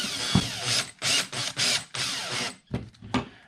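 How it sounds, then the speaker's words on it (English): A power drill drives two screws into an Axial Ryft RC monster truck frame: several short whirring bursts with ratcheting clicks and pauses between them, close and clear with no talking. "I know I'm a hack for using a drill, but I'm trying to go fast."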